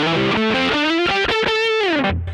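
Lead lines on an electric guitar through a Boss OD200 set to fuzz mode, a quick run of saturated single notes bending upward into a held, singing note, loud and up close.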